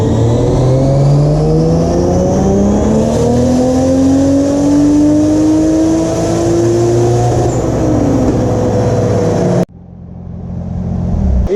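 Turbocharged 2JZ engine in a Nissan S13 revving hard on a dyno, a loud continuous pull climbing steadily in pitch for about ten seconds before cutting off abruptly, then spooling back up.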